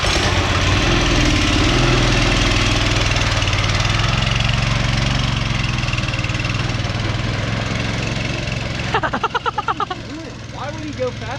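An 18 hp go-kart engine with a torque converter runs loud and steady nearby with a rough drone, then sputters in pulses near the end while people talk over it.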